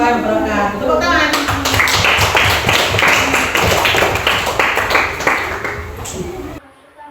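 A group clapping hands close by in a room, a quick uneven patter that starts after someone speaks and continues for about five seconds with voices over it, then cuts off abruptly.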